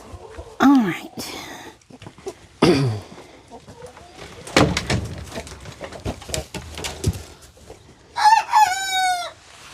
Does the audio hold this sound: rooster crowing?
yes